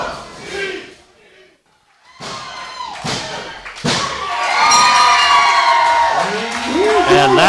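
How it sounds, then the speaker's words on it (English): At a wrestling event, a heavy thud lands in the ring as one wrestler pins another, and a crowd in the arena cheers and shouts around it. "that was the sound of Madman Fulton pinning Anthony Lee"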